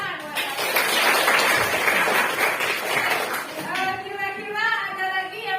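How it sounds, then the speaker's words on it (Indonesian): Students in a classroom clap together in a burst of loud, dense applause for about three seconds, which then gives way to an adult voice speaking. "Tepuk tangan buat"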